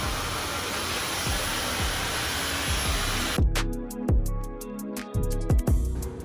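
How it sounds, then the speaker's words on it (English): A Dyson Supersonic hair dryer with a diffuser attached, set on cold air, blows a loud, steady whoosh up close, then switches off abruptly, leaving a few faint clicks and handling knocks. "I take my Dyson Supersonic, I attach my diffuser, and I put it on cold air."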